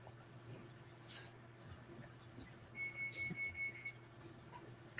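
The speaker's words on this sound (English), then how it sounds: "Somebody's beeping." An oven beeps in a home, a short series of quick electronic tones under a low background hum, faint and somewhat distant.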